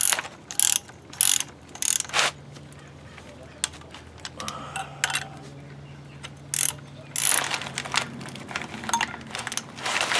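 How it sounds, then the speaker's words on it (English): Ratchet-style torque wrench tightening a brake caliper retaining clip during a 1967 front disc brake conversion, giving quick clicking bursts and rattles in irregular runs, close up with faint background sounds. "next up is the retaining clip, and that gets torqued down to 7 to 11 foot-pounds"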